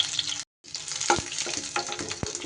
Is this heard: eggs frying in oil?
yes